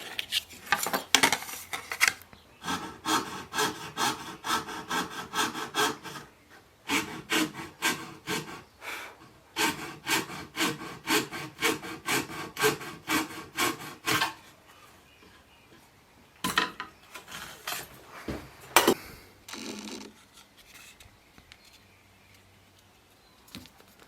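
A fine saw cuts marquetry veneer, sawing in quick rhythmic strokes that come in bursts. Short pauses separate the runs, and toward the end the strokes thin into scattered scrapes and taps.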